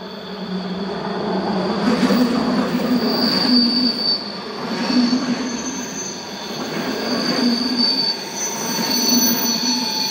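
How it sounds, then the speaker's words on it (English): An Austrian class 1116 electric locomotive arrives with a service from Bregenz, its wheels squealing steadily with high-pitched tones over a rumbling rolling noise, loud and close, with no voices. "Austrian 1116090 is seen arriving with a service from Bregenz."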